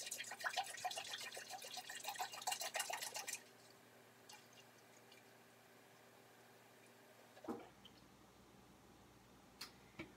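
Four liters of milk poured into an Instant Pot for Greek yogurt: a dense, steady splashing stream for about three seconds, then it stops, followed by quiet room tone and a couple of faint knocks.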